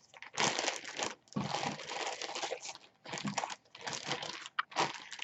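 Large two-gallon plastic Ziploc bag crinkling and crumpling close up in a crafting setting, in several loud bursts of rustling separated by short pauses, with no talking.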